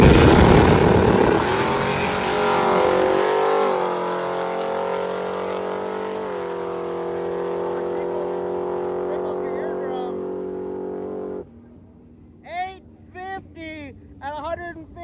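A stick-shift 850-class hot rod drag car roars at high revs through gear changes, then cuts off abruptly, leaving crowd noise and a voice over a public address.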